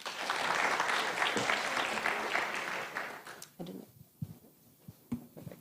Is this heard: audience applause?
yes